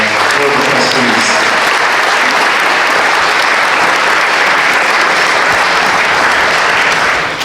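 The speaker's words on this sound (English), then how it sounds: "Let's have a round of applause for our board of trustees." Banquet crowd at a senior games awards dinner gives a loud, sustained round of applause for the board of trustees, dense clapping holding steady throughout before tapering at the very end.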